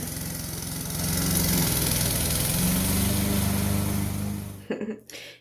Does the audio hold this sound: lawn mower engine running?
yes